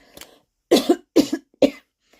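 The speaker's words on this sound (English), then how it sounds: "And when I cough" Three sharp coughs close to the microphone, evenly spaced with short pauses, preceded by a softer throat sound.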